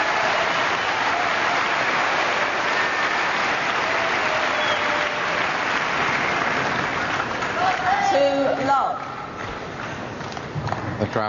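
Steady applause from a badminton arena crowd at the 1990 All England women's singles, a dense continuous wash of clapping, with someone commentator's voice coming in near the end.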